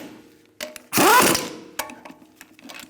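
Lug nuts being snugged onto a wheel of a 2002-2006 Honda CR-V with a ratcheting tool, a brief burst of rapid clicking with a few lighter metallic clicks and taps around it, close up and without speech.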